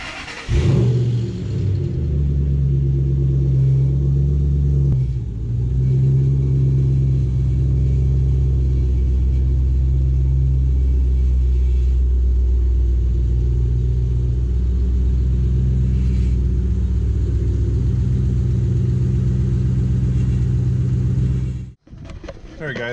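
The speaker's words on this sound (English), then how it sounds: "we're going to go ahead and start this up. I'm going to let it run a little bit, get the engine warmed up" 2005 Ford Mustang GT rebuild, V8 engine running on a hot day to warm up: a loud, steady, deep rumbling idle after an initial start-up surge, continuing close and unbroken before cutting briefly near the end.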